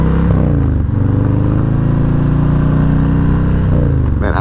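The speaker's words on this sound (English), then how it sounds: "Man, I really love the way these Vans and high slip-on sound." A motorcycle fitted with a Vance & Hines slip-on exhaust revs loudly and close by, holding a deep, throaty, steady drone with a brief dip and rise in pitch.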